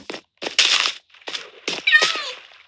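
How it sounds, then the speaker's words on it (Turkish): Minecraft cats meow several times in quick succession, short close tame-cat calls in a game, with brief gaps of silence between them and no talking. "Bir de bir sürü kedi evcilleştirdim"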